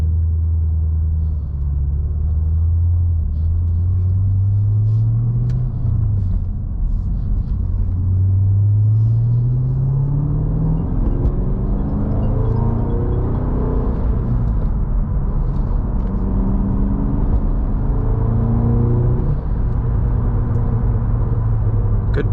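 A 2022 Cadillac CT5-V Blackwing with a six-speed manual gearbox drives along, its engine giving a loud, steady low rumble that rises and falls in pitch as gears are worked through, with no talking.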